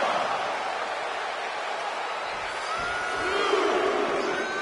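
A wrestling arena crowd cheers and whoops as a wrestler rallies them, a continuous roar of many voices with scattered shouts and whistles rising toward the end.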